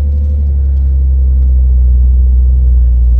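A 2023 Porsche 992 Carrera T with a manual gearbox cruises on a morning drive, heard from inside as a steady, loud, low engine and road drone with no revving.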